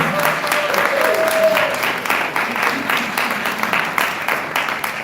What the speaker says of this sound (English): Let's give our panelists a round of applause once again